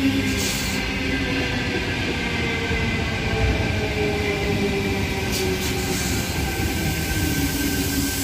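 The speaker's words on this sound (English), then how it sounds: "The noisy T5 and his friend departing platform number 2, waterfall service." A noisy Sydney T5 commuter train pulling out of platform 2 at Heathcote station, a steady loud rumble with drawn-out wheel squeal and rail clatter throughout.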